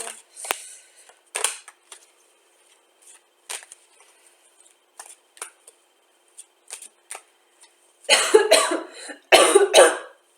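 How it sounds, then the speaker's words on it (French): A person coughs repeatedly in short, scattered bursts, ending with a few louder, harsher coughs close to the microphone. "je commence par tousser"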